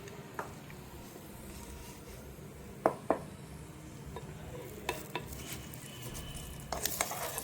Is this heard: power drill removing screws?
no